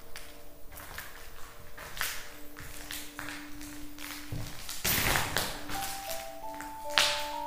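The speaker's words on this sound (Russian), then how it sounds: "полы очень угрожающие. Скрипят тут моими ногами" Old floorboards in an abandoned former school creak and tap under slow footsteps, with scattered steps, a few drawn-out creaking tones and a heavier thump near the end, moderately quiet and close.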